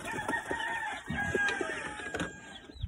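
Chickens and chicks on a poultry farm cluck and a rooster crows, with no talking. The clucks and crows overlap steadily at close to moderate range.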